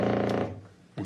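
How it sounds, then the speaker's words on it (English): A television picture tube gives a close, harmonically rich electrical buzz that fades over about half a second. A short burst of the buzz returns at the very end. "And then this is the sound of the picture tube."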